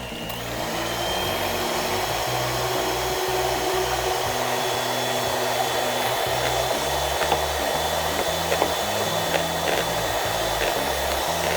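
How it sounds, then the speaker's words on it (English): An electric whisk beats egg whites in a home kitchen with a loud, continuous motor whine that holds steady throughout, its pitch shifting slightly, with a few faint knocks near the end. "So now let's whisk the whites."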